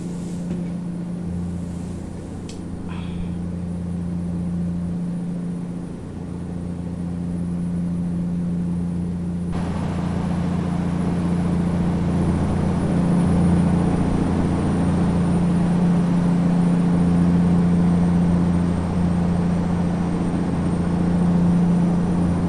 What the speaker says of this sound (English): I definitely like that engine sound. I love Cummins diesel.